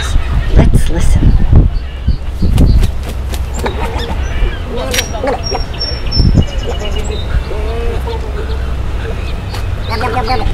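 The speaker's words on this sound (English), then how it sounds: "Symphony of nesting birds." A colony of nesting seabirds calls on the west side of Alcatraz, with a mix of squawks and chirps over a steady low rumble of wind or surf and voices nearby.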